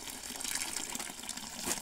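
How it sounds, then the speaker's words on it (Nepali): Hot water poured into a mortar while preparing timur seeds, a continuous splashing gush of liquid, fairly close and steady for about two seconds. "ओखलीमा चाहिँ पानी हाल्नुपर्छ र अन्त तातो पानी हो यो।"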